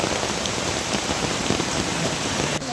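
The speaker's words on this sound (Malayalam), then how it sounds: "മഴയല്ലേ ഒന്നും പറയണ്ട പെരുമഴ ഒന്നാന്തര മഴ" Heavy rain pours down in a dense, unbroken roar during flooding, drops drumming hard on surfaces close by.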